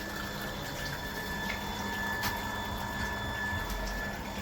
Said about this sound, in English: let me switch on the pump so that you see the water going up there